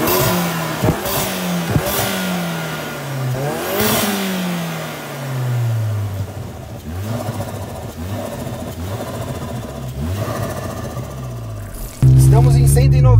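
A modified 300 hp Volkswagen Jetta GLI with an upgraded intake is revved hard several times, each sharp throttle blip rising and falling, then settles into a louder steady roar at the end, close and loud.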